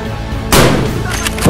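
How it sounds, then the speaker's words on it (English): A burst of gunshots from Escape from Tarkov breaks in loudly after a quiet start, with further sharp shots trailing off. "I shot him in the face"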